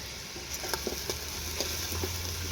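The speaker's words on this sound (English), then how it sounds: "So you're cooking up all of that liver and fat and the pork meat, huh?" Pork liver, fat and meat sauté in a pan with a steady, close sizzle, broken by a few sharp spatter pops and stirring clicks, while a low hum runs underneath.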